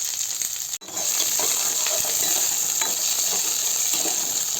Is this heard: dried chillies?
yes